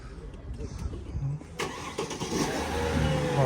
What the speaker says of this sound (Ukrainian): спокійно заводиться